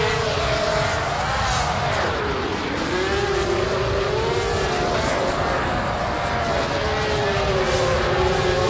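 Race vehicles launching at the start of a race in the futuristic racing video game XGRA, heard as a continuous loud engine drone with wavering pitch that rises and falls across the whole stretch, no voices.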